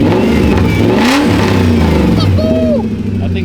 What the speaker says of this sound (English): I give a little baby rev.